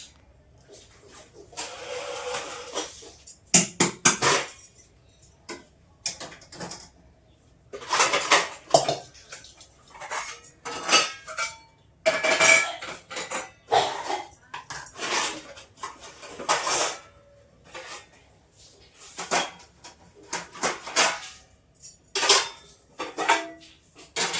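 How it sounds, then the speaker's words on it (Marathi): Dishes, pots and cutlery being set out quickly in a home kitchen, a busy run of clanks, clinks and metallic scrapes in irregular bursts with short pauses, close and fairly loud. "तोपर्यंत भांडी मांडून घेते पटापटा."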